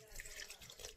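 Water is poured into a bowl while making milk harcha, a semolina flatbread. It gives a brief, faint, soft trickling splash.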